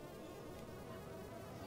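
A steady, soft insect-like buzz from a bee in the Minecraft video game, continuous and faint without any talk.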